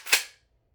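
A Stevens 320 pump shotgun gives one loud, close metallic clack as a shell is chambered, a sharp snap that rings briefly and fades into silence, with no voices.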